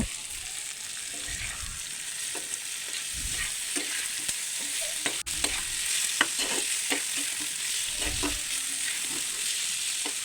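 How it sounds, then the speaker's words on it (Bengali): Potato fry with onion, chilli, turmeric and salt sizzles steadily in a pan while a spatula stirs it in irregular scraping strokes, close and fairly loud with no talking. "হলুদ, লবণ দিয়ে খুব সুন্দরভাবে নাড়াচাড়া করে আমি আলু ভাজিটা নামিয়ে নিব"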